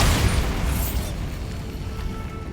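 A Bombarda blasting spell goes off in the Hogwarts Legacy video game, a loud booming explosion that starts hard and settles into a long rumbling decay over a couple of seconds.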